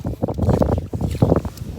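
Strong wind buffets a microphone on a beach during a shellfish-gathering festival in Holland, a loud, continuous rumbling roar with gusty surges throughout.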